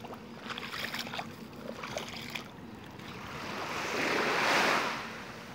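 Calm sea waves in Teluk Kabung bay near a harbor in West Sumatra wash softly with light wind, the surf swelling louder toward the end, fairly faint and without speech.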